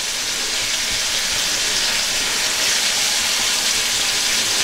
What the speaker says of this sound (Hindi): पहले एक साइड को हल्का सा फ्राई होने दे, फिर इसको टर्न करेंगे और दूसरी साइड को इसको फ्राई करेंगे।